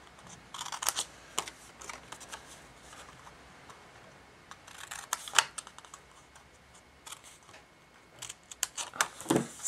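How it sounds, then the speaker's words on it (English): Scissors cutting along the long sides of a paper envelope-punch-board matchbox, making a series of short, crisp snips in irregular bursts, close and fairly quiet. "We're just going to cut on these long sides."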